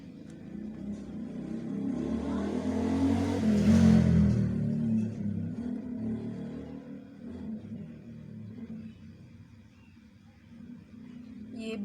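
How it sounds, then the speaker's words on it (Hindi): A motorbike passes along a road close by, its engine swelling to a loud peak mid-way and then fading, with a softer rumble of traffic continuing behind. "ये बाइक वगैरह की जो आवाज़ आ रही है प्लीज़ इसको इग्नोर करें, क्योंकि रोड बिल्कुल पास है"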